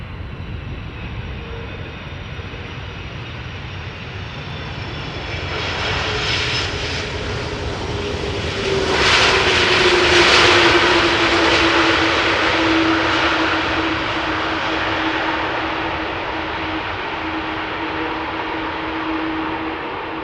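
KLM Airbus A330-200 airliner landing at Amsterdam Schiphol, a continuous jet engine roar that swells as the plane passes close and then fades slightly to a steady rumble, with no voices.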